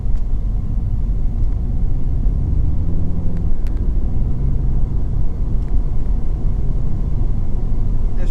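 Cabin of a 2019 Mini Cooper S 4-Door cruising through town, a steady low engine and road rumble droning on evenly with no voices.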